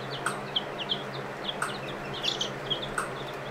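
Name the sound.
Sussex hens and Delaware roosters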